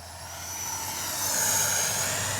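A radio-controlled jet airplane makes a low pass overhead, its steady turbine whine and rushing roar swelling slightly toward the middle and then holding, loud and continuous, with no voices.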